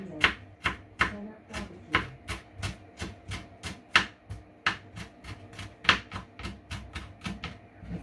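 A knife chops food on a cutting board while lamb and ribs are prepared, giving a steady series of sharp, close knocks at an even quick pace with no talking.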